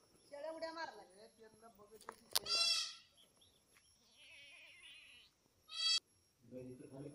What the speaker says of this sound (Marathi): आणि या शेळ्या काय करत होत्या इथं